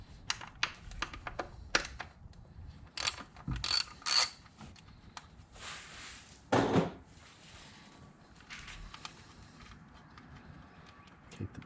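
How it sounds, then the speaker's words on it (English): A ratchet wrench loosening a bolt on the 3.5-litre engine of a 2011 Ford Edge during spark plug work, giving close, intermittent clicking and clattering bursts with one louder scrape, no speech. "Take the bolt out."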